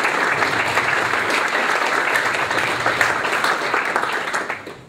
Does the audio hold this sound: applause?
yes